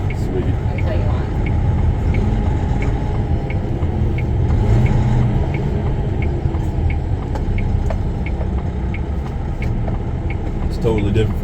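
Cab of a Scania S13 truck with the Integrated Powertrain cruising on the I-5 highway near Tacoma: a loud, steady low engine and road rumble runs throughout, with faint rhythmic ticking, under ongoing conversation.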